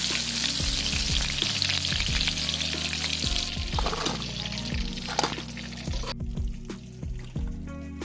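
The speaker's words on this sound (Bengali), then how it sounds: "সবগুলো লাল লাল করে মচমচে করে ভেজে তুলে নিলেই এই চিকেন পকোড়া রেডি।" Chicken pakoras deep-fry in hot oil with a loud, crackling bubbling close by, punctuated by repeated spoon or strainer clinks, and the sizzle drops sharply near the end as pieces come out.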